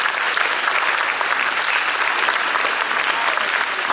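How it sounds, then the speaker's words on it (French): An audience at a school show applauding the school orchestras, dense and sustained clapping from a large crowd that stays loud and even throughout, with no other sound over it. "Je pense qu'on peut applaudir encore tous les orchestres qui ont participé"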